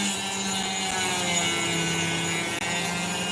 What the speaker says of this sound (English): So I'm going to cut that divot through.